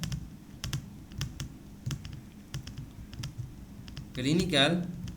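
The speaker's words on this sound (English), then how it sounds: "In the first cell of the second row, type clinical experience and then press tab." Quick keystrokes on a computer keyboard while filling in a Microsoft Word table, close, irregular clicks in short bursts, with a voice speaking briefly near the end.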